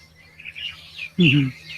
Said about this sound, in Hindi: शाम का समय आके बात करती हैं